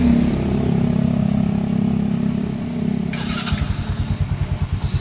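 A Bajaj CT 125 motorcycle engine running close by, with a steady low putter that turns into quicker, harder pulsing as the throttle is blipped in the last couple of seconds.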